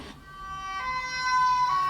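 A police car siren wails close by on an Amsterdam street, its tone climbing and growing louder over about two seconds, with faint traffic underneath.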